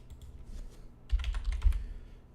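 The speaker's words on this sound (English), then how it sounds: "Sorry if you hear me click-clacking." Computer keyboard typing comes through as soft, quick clicks in a brief burst, fairly faint and close, with a slightly louder flurry midway.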